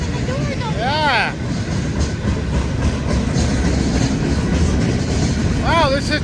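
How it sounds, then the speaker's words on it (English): A long CSX freight train rolls steadily past close by, a continuous heavy rumble with wheel clatter and brief squealing flange screeches near the start and end, while people talk over it. "Wow, this train is a lot longer than I thought it was."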